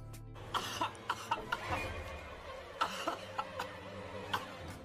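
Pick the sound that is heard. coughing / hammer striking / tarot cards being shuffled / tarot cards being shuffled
coughing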